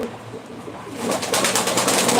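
Ankara game pigeons coo close by at a live bird auction, a dense, continuous rolling murmur that swells louder in the second half.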